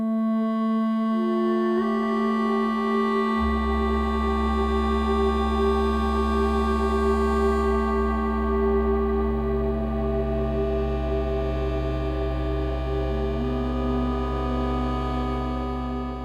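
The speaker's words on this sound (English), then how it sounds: "So what you're hearing now" A Plinky synth module playing its own internal synth: sustained, layered harmonic tones with a shifting low drone and slowly changing notes, smooth and continuous throughout with no voices.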